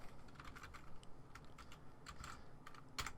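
Rapid close keystrokes on a computer keyboard while entering Unity code, an uneven patter of light clicks that runs throughout with no talk.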